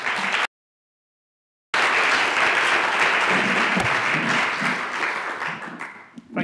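An audience at a sustainability conference applauds to welcome a keynote speaker, steady full-room clapping that cuts out briefly near the start, then resumes and fades away at the end.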